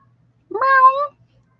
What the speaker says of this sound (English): Oh, meow, meow, meow, meow, meow. I think that's Luna.